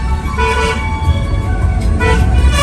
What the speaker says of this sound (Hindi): आज कुछ ज़्यादा ट्रैफिक लग रहा है यहाँ से।